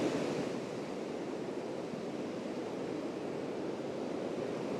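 Strong wind roaring steadily through trees on an exposed hillside at Old Winchester Hill on the South Downs, a continuous surf-like rushing that stays loud and broad for the whole stretch with no talk.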